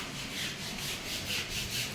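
Kitchen utensils being scrubbed clean by hand, a soft, steady rubbing and scouring sound repeating in quick, even strokes, faint and continuous with no voices.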